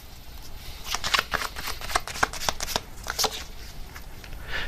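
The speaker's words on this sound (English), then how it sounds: "let me get another card here" Tarot cards being shuffled up close, a run of crisp riffling flutters and soft slaps over several seconds, fairly loud and alone, with no voices.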